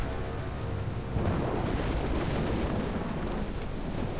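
Steady heavy rain with rumbling thunder in the Jurassic Park: The Game video game, a dense continuous downpour that swells slightly after the first second and carries on without any voices.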